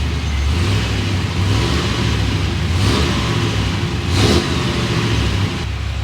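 A car engine running in gear with a steady mid-pitched drone, close and fairly loud throughout, a slight swell partway through, with no talk.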